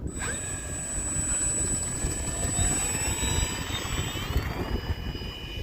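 An Arrows F4U-4 Corsair RC model airplane takes off outdoors on a windy day, its electric motor whining steadily and rising in pitch as it climbs, fairly close over wind rumble, with no talking.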